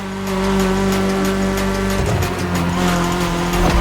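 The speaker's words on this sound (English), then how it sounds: "The one you're driving is the E30." A BMW E30 from 1982 driven in the racing game The Crew Motorfest, its engine droning steadily with a shift in pitch midway, tires squealing briefly, loud and close with no voices.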